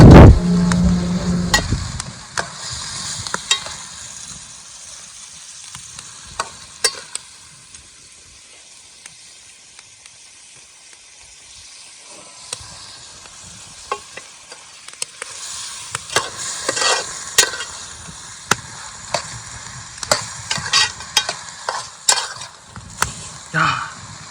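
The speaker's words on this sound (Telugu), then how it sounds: "కూర కలర్ వచ్చిన దాకా కలుపుతూ ఉండాలి ఫ్రెండ్స్" Goat head curry in Rayalaseema style fried and stirred in a pan: continuous sizzling hiss with frequent scraping and clattering of the spoon, busier toward the end, no voices.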